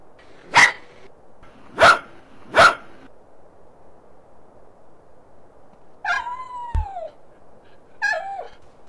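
A dog in GTA San Andreas barks three loud, sharp times at an even pace, then after a pause gives two whimpering, whining yelps.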